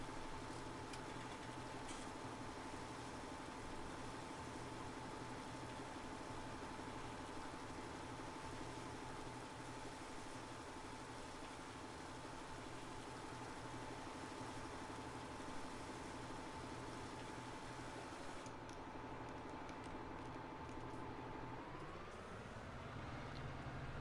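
A Massey Ferguson tractor engine in Farming Simulator 19 idles with a steady, even drone for a long stretch before the pitch rises briefly near the end.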